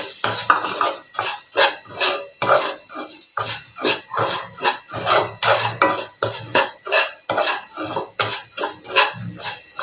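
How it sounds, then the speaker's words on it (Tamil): Semolina being stirred and roasted in oil for mango kesari, a rhythmic series of close metal spoon scrapes against the pan, repeating steadily about twice a second. "இப்போ அந்த ஆயில் கூட நம்ம எடுத்து வச்சுருக்க ஒரு கப் ரவையை சேர்த்து வறுத்துக்கலாங்க"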